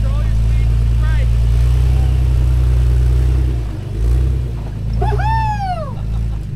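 Off-road vehicle creeping down a trail obstacle: a low steady engine rumble with small rises and dips as it descends, with people talking and a sharp whoop near the end.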